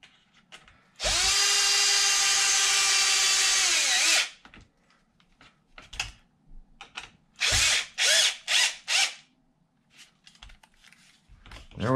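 A power drill driving screws into the upper bulkhead of a Traxxas XRT RC truck: one long whirring run of about three seconds, then several short bursts in quick succession, with small clicks between them, close and loud.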